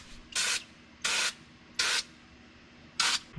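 Four short bursts of black spray paint hiss from a can in an even rhythm while painting a Jeep XJ, each about half a second, with quiet pauses between.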